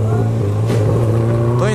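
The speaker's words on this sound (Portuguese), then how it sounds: "Ainda deixei o moleque dar aquele corte na CB1000." A Honda CB1000 motorcycle holds a steady, loud, buzzing engine note at high revs. It climbs sharply in pitch near the end as it is revved toward the rev limiter, with no talk over it.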